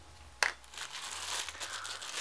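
A plastic bag holding toiletries is handled, producing soft continuous crinkling after a brief sharper rustle near the start, quiet and close.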